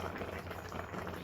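Waterless chicken simmering in its own juices, a steady soft bubbling and gentle sizzle held close and even throughout, with no talk over it.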